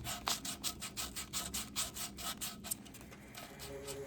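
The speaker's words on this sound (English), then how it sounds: "I kept folding bits of sandpaper, I think it was 220, and at some points even flossed it back" Rhythmic hand sanding of a wooden table with folded 220-grit sandpaper, steady back-and-forth rasping strokes about three per second, close and fairly loud, slowing near the end.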